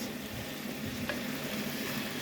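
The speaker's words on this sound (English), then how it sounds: "frying all the seasoning with the spices and stuff gives it a really good taste" Steady, close sizzling of seasoning and spices frying in a pan for chicken wings, a continuous crackling hiss with no voices.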